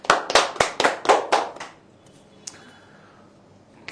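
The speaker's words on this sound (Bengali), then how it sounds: "তার জন্য একটা হাততালি হয়ে যাবে।" A round of hand clapping for a new viewer, about seven sharp claps in a quick, even rhythm, close and loud, then a quiet room with a faint tap.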